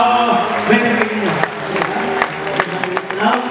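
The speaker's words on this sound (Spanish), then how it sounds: "Un aplauso, por favor." An audience claps at a children's cosplay runway show at a convention, a moderate burst of applause mixed with crowd chatter and a nearby voice talking over it.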